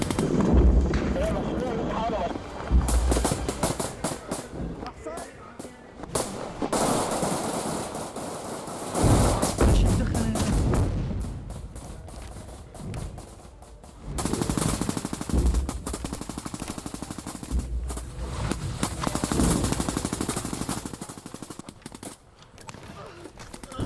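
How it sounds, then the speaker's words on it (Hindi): Bursts of gunfire crackle near the Gaza border in live news coverage, with rapid repeated shots and heavy booms coming in waves over about twenty seconds, mixed with voices talking. "ये तस्वीरें गाजा बॉर्डर की तस्वीरें, जहां पर अब गन फाइटिंग की आवाजें आ रही है।"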